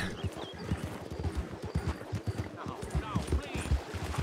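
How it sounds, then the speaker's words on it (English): A horse gallops and neighs in the open-world western game Red Dead Redemption 2, with rapid, steady hoofbeats and brief whinnies under someone talking throughout. "I'm trying to rope a horse."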